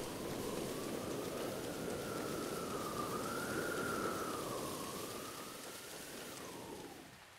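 Steady rain falls in The Legend of Zelda: Breath of the Wild, a soft continuous hiss under a thin wavering whistle-like tone, easing slightly toward the end.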